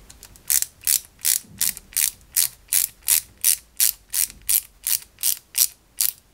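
A screw turned into a part of a 1961 London Routemaster RM857 bus model kit gives a loud, steady, evenly spaced ratcheting click, about fifteen strokes with no talking.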